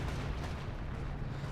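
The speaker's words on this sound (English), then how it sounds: "And now comes the artillery." Artillery fire in Company of Heroes 2 during a 3v3 tank battle: a dense, continuous rumble of distant shelling with heavy low booms that roll steadily under the mix without a clear break.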